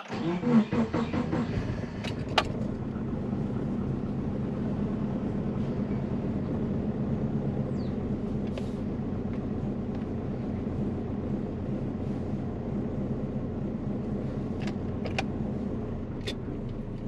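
Twin-turbo Subaru Forester on a street test drive, a steady loud engine and road drone running throughout with a few brief sharp knocks and clicks, no talking.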